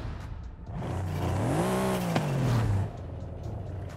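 Brabus 800 V8 in Forza Horizon 5 roaring as it revs, a loud engine note that climbs in pitch, holds, then sweeps down and cuts back to a lower idle, with no voices.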